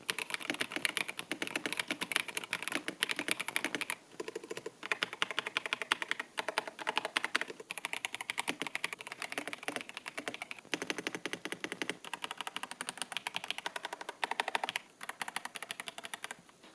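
A RisoPhy retro-style wireless mechanical keyboard is typed on steadily for a long stretch, the close, clacky keystrokes coming in rapid, even bursts with brief pauses between them and no talking.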